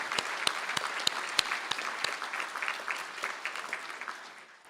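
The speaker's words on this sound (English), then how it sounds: "I ask the graduates of the Bachelor of Business Honours in Accounting to stand for a round of applause." Applause for Bachelor of Business Honours in Accounting graduates at a Galway City conferring ceremony: steady hall-wide clapping with sharp individual claps standing out, holding throughout and easing slightly toward the end.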